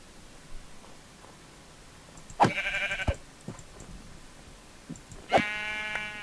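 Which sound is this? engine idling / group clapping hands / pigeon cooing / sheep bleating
sheep bleating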